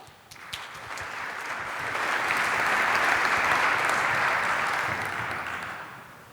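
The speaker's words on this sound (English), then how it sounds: "Please give him a warm round of applause" Audience applause at a tech conference talk: a roomful of hands clapping steadily, swelling to a full, dense roar before tapering off slightly, with no voices over it.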